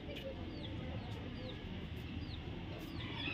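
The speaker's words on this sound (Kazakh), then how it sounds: "Сәндік ергежейлі тауықтар" Small decorative bantam chickens cluck at a zoo, faint short calls scattered over a steady background murmur, with distant voices in the scene.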